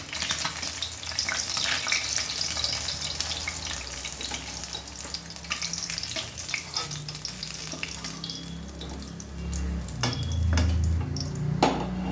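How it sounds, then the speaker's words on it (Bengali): Cumin seeds and bay leaf hit hot oil for a rohu fish curry, giving a steady close sizzle with light clinks of utensils against the pan and no talking. "ফোড়নে দিয়ে দিলাম জিরে"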